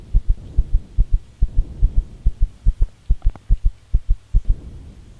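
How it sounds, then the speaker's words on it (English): Heartbeat in the space-survival game Empyrion: a steady, close, deep lub-dub thumping, about two dozen beats over a low hum, with no talk. "Okay, I got it. I got a heartbeat."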